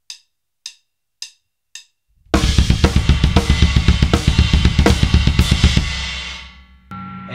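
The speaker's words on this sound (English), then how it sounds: "starts out with a crash on the snare" Four sharp stick clicks lead into a loud drum kit groove from a drum solo, with crash, snare, bass drum and ride cymbal edge, played fast and close before the cymbals ring out and a final hit lands.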